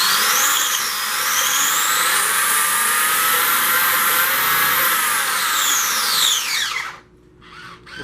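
Castle 1100KV brushless motor spinning up in a 1/5 scale Arrma RC car on a dry bench test, a loud steady high whine with rising and falling pitch sweeps before it cuts off and briefly revs again.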